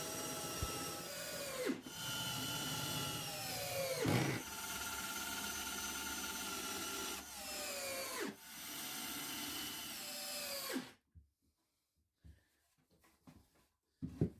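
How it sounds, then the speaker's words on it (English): A cordless drill whines steadily in several long bursts drilling pilot holes, countersinking and driving screws into a rolling table saw stand frame, winding down between runs, with brief pauses and then near silence at the end. "I'm drilling pilot holes, countersinking, and then driving in the screws"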